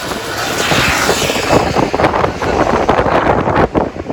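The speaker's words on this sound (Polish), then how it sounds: "Pan zagłusza, wiatr zagłusza, wszystko zagłusza." Heavy wind buffets the microphone outdoors on a rainy day in San Sebastián, a loud continuous rumble and roar filling the whole stretch with gusty surges.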